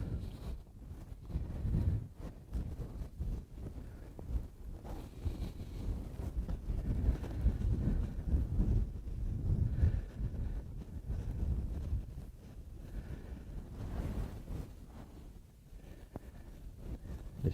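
Outdoor wind at a coyote trap set, buffeting loudly and steadily against the microphone throughout with low rumbling gusts and no speech.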